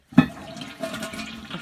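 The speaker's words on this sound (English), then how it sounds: "A flush toilet in the car." A flush toilet in a small DIY tiny house cottage on wheels gives a short flush: a brief burst of rushing water followed by a softer gurgle and refill, close by and alone.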